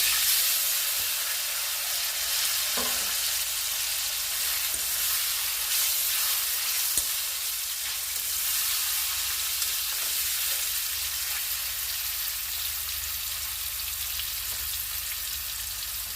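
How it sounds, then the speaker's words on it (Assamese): Cumin seeds, panch phoron and elephant apple pieces frying in hot oil for a sweet pickle, giving a steady, close sizzle and hiss with faint stirring clicks throughout, no voices. "মোৰ জিৰা আৰু পাঁচফোৰণ ফুটিছেই। মই ইয়াতে ঔটেঙাখিনি দি দিছোঁ।"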